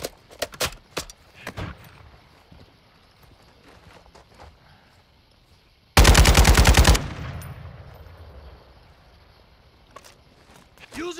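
Loud burst of rapid automatic gunfire in a competitive video game shooter, a dense volley lasting about a second, surrounded by scattered sharp single shots and footsteps.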